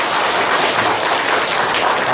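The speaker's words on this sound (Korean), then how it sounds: "우리 먼저 뜨거운 박수를 연습 한번 하겠습니다" Loud, dense applause from an audience at a church forum, a thick continuous roar of many hands clapping together, close and unbroken with no voices on top.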